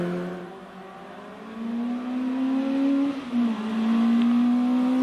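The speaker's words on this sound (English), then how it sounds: "Here's the shared 205 GTI, this time driven by Robert Wilson." A Peugeot 205 GTI race car climbing a hill course, its engine droning loudly and rising steadily in pitch through the gears, with a brief dip in revs before pulling hard again, close and continuous.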